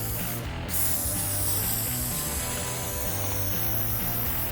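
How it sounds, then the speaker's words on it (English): An aerosol spray can applies clear coat to the flat surface of an old pickup truck, a steady close hissing spray running throughout with faint rubbing and rattling underneath. "It's really hard to paint this flat surface without dragging the edge of the can on it."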